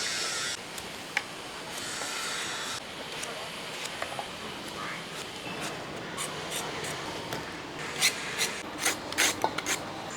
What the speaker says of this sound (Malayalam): ചേനയൊക്കെ ഇന്ന് ചെത്തി ഇങ്ങനെ തൊലിയെല്ലാം ഒന്ന് ചെത്തിക്കളയട്ടെ